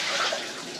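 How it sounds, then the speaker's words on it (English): Tap water runs steadily into an AeroGarden bowl during rinsing, a close, broadband splash and hiss lasting under a second with no voices. "Rinse it one more time."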